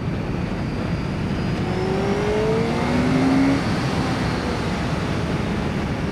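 A Honda CBR1100XX four-cylinder sport motorcycle engine revs to a high, rising whine for a couple of seconds, partly buried under steady wind-like rushing noise.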